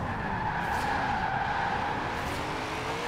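A 2008 BMW E92 M3 drifts in Forza Horizon 4, its tires squealing in a continuous skid over a steady engine drone that holds at an even level throughout, with no voices.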